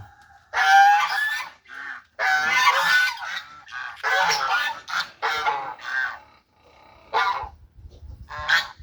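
Domestic geese, two ganders and five females, honking loudly in a backyard pen, repeated harsh bursts in irregular clusters close by with brief pauses between calls.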